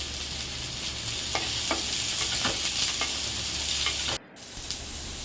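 Sliced onions sauté in oil in a kadai, a steady close sizzle with the occasional scrape of stirring, cut briefly by a sharp break near the end before the frying hiss resumes.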